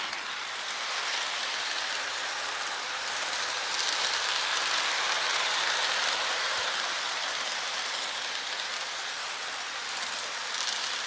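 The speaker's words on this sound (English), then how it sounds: "And that's a AC motor, over 100-year-old locomotive working on this track." A century-old Lionel toy locomotive with an AC motor runs on FasTrack, giving a steady, even whirring hum that stays constant throughout, with no voices.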